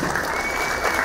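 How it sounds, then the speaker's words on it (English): Audience applause at an inauguration event in Stockholm, a brief steady burst of dense clapping from a crowd, fairly loud and continuous. "Can we have another big round of applause, please?"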